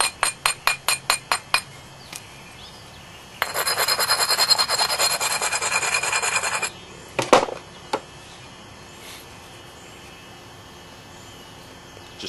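The thick edge of a flint biface is abraded with a stone: first a run of sharp rhythmic scrapes, then a dense burst of fast rasping, followed by a couple of isolated gritty strokes, close and loud.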